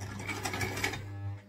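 A home sewing machine set to zigzag runs briefly while sewing a tote bag, a close whirring, rattling hum of rapid stitches that stops near the end.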